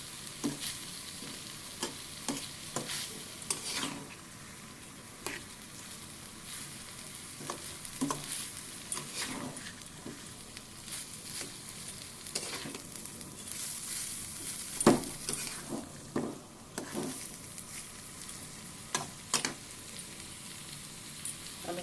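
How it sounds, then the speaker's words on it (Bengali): A banana stem curry with lentils is sautéed in a pan, giving a quiet, continuous sizzle under frequent scraping and tapping from steady stirring. "তরকারিটাকে অনেকক্ষণ ধরে কষিয়ে নিচ্ছি"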